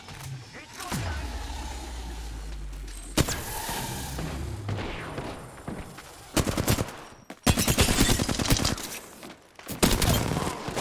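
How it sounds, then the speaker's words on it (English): Gunfire in Apex Legends, several loud automatic bursts and single shots scattered among game effects, with someone talking between them. "They're shooting at me."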